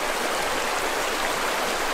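The Hoh River rushes steadily past Glacier Meadows in Olympic National Park, a loud, unbroken broadband roar of flowing stream water with no voices.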